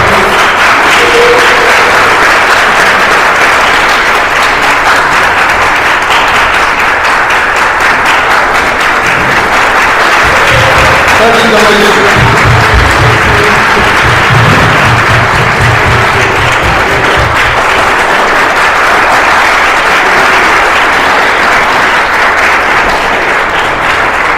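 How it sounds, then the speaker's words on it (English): A large audience at a thanksgiving celebration meal for someone's recovery breaks into a loud, sustained round of applause that continues steadily for over twenty seconds. "so big round of applause"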